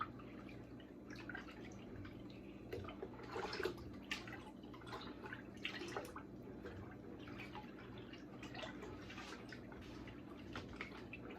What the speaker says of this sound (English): Let's stir that up some more.